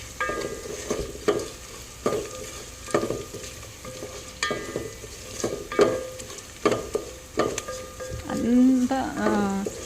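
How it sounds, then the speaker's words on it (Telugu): Whole spices (cinnamon, cloves, bay leaf, poppy seeds and cumin) fry in hot oil for egg pulao, a soft sizzle broken by regular scraping stirs about once a second, close by, with a voice briefly overlapping near the end. "చెక్క, లవంగం, ఇంకా బిర్యానీ ఆకు, గసగసాలు, జీలకర్ర ఇవన్నీ వేసుకొని దాంట్లోనే వేయించుకోవాలన్నమాట."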